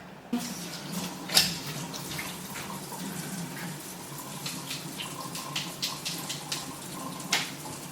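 Hot water from a tap running into a cooking pot in a home kitchen, a steady close gushing stream with a few clunks and splashes on top, no talking.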